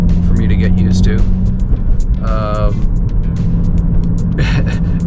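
Nissan 350Z with a notchy shifter and heavy clutch driving along, a steady engine drone inside the cabin with a brief rising rev and a few clicks and knocks.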